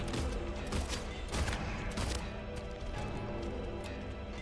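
Rapid gunfire from Silent Hill 2 Remake, several dense shots in quick bursts over a loud, cluttered game soundscape with no talking.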